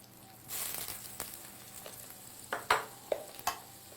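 Butter is added to a hot pan with a reverse-seared steak, and a faint hiss sits under sharp intermittent crackles and pops that flare up several times.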